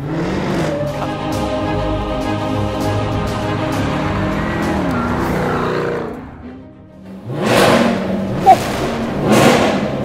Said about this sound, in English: The result is a much faster car with the thunderous exhaust note that gave the car its name.